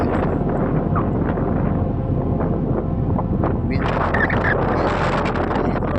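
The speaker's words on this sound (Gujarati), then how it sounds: "પવન વધારે" Strong wind buffets the microphone outdoors near Mandvi, making a constant loud low roar and rumble throughout, with some higher hissing gusts toward the end.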